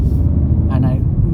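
A car accelerates on a UK road during a driving test, heard as a loud, steady engine and road rumble from inside the cabin, with a brief voice partway through.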